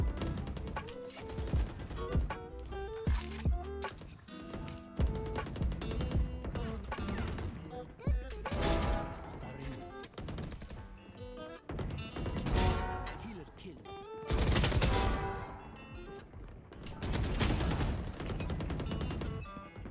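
Dense bursts of gunfire in the video game Valorant, rapid shots and sharp cracks coming in clusters across a busy, loud stretch of play.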